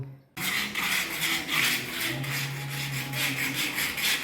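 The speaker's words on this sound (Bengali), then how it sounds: "এই পার্সিবিল গেটটা জং ধরে গেছে এটা ঘষা হচ্ছে ঘষে রং হবে" Rust is scraped off a metal collapsible gate before painting, making a continuous rasping, scratching sound in repeated strokes that starts abruptly and stays close and fairly loud.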